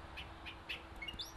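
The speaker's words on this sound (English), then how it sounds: "The problem here is birds. You can hear them." Wild birds near a garden bed where mustard seed is being planted, several brief high chirps from a few birds at a moderate distance, faint against a low background hum.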